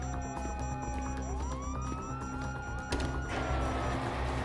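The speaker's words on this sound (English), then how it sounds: "you hear that? Sirens!" Police sirens wailing in the video game GTA 5, rising and sweeping steadily over a constant rumble of traffic and engine noise, joined near the end by a louder burst of crashing noise.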